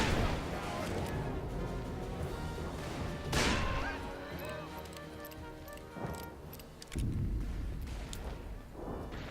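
Gunfire from a Civil War-era battle in the video game Call of Juarez: Bound in Blood, with a sharp shot near four seconds amid dense continuous battle noise, more bangs and impacts later, under a busy game soundscape.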